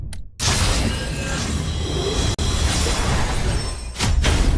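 A loud burst of glassy shattering and whooshing effects fills the moment an item breaks on a failed enhancement in the Night Crow game, dense and continuous with a brief cut midway and no talk.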